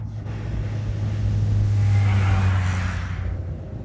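A Fiat Panda 4x4 with its four-wheel-drive system hums along on the road, a steady low engine drone that swells with rising revs midway, then eases back, with no voices.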